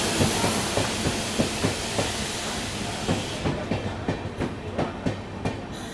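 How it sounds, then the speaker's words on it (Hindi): Kushinagar Express pulling into platform 2 at Badshahnagar railway station, a steady broadband rumble of the rolling train with regular wheel clacks over rail joints, close by and loud, the rhythm growing more distinct as it slows. "अभी अपने शेड्यूल टाइम से लगभग 9 मिनट की देरी से ये आ गई अपनी Kushinagar express Badshah Nagar railway station के प्लेटफॉर्म नंबर 2 पर"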